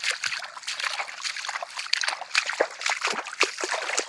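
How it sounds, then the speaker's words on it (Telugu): Water trickles and splashes steadily from an irrigation canal into a paddy field, a close, continuous gurgle with small irregular splashes and no voices. "నీళ్ళు అయితే పోతున్నాయి, కాలువ నుంచి అయితే పోదాం."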